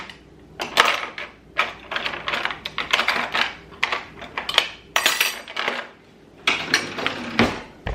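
Plastic utensils clatter and clink in quick irregular bursts as a kitchen drawer is cleared out, close and fairly loud with brief pauses between handfuls.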